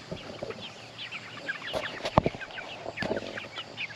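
Free-range chickens cluck and murmur close by in short, scattered bursts, with a few sharper knocks and bumps mixed in and no talk.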